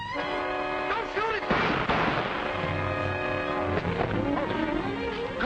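Several sharp gunshot bangs crack out amid tense music and shouting voices, loud and close, spaced irregularly.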